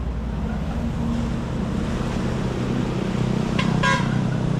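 Surf washing ashore at a seaside spot in Hasaan along the Puerto zigzag road area, a steady broadband roar of waves mixed with wind buffeting the microphone and a low engine-like rumble, continuous and fairly loud with no talking.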